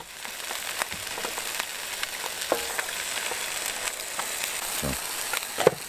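An egg fries in a pan at an off-road camp, a steady broadband crackle and sizzle with scattered sharper pops running the whole time, close and fairly loud.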